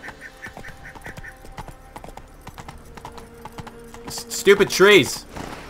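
Horse hooves clip-clop along a rough forest path in The Witcher 3, a steady regular trot of distinct hoofbeats through the first half, while a voice breaks in loudly near the end.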